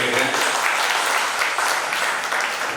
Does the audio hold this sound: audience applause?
yes